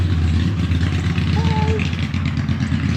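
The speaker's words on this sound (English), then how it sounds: "Oh, it's a motorcycle, 2 motorcycles." Two motorcycles pass outside, their low engine rumble heard steadily underneath a person reading aloud.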